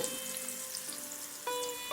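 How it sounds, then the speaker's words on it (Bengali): Slices of ash gourd fry in oil in a pan, giving a steady soft sizzle with faint tonal hum, a small rise midway and a brief louder clatter at the end; no one speaks. "এবার আর একটা পিঠে উল্টে চাল কুমড়োর উল্টো দিকটাও ভালো করে ভেজে নেব"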